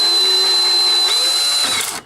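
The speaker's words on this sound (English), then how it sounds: "Oh, there goes our drill bit." Power drill with a drill bit whining steadily at high speed during a timing belt and camshaft seal job, loud and close, before spinning down and stopping after about two seconds.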